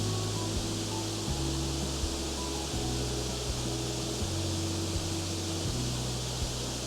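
The Calder Mill waterfall at Lochwinnoch gives a steady, dense rush of falling water, unbroken throughout, with a low mechanical hum wavering underneath.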